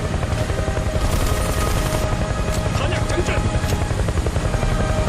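Helicopter in the Netmarble Hounds shooter game, a loud continuous rotor thrum with scattered gunfire cracks mixed in, and players talking over it.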